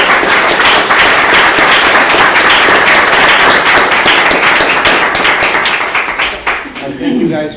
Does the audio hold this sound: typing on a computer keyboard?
no